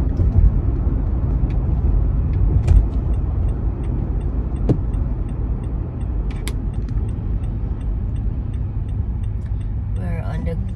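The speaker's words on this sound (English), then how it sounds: "So, driving to work now." A car drives to work on a foggy road, its steady engine and tire rumble continuous and close, with a couple of brief sharp knocks along the way.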